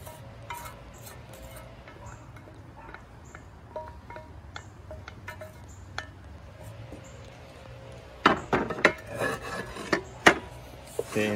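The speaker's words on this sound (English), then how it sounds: "Dump all this in. Got all of our breadcrumbs and sausage." Breadcrumbs and sausage are dumped into a pan for stuffing, a close rustling and scraping with light clinks, quiet at first and then a louder flurry of rough pours and knocks near the end.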